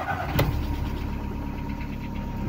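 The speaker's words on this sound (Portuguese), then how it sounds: "Carro desengrenado, vamos dar uma partida nele." A car with water in its electronic fuel-injection connector and a P0325 fault is started with the key: a sharp click, then the engine catches and settles into a steady, close idle rumble.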